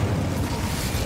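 A burst of Incendio fire spell in Hogwarts Legacy, a dense, roaring whoosh of flame held steadily loud for about a second.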